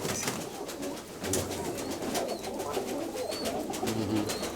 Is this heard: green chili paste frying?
no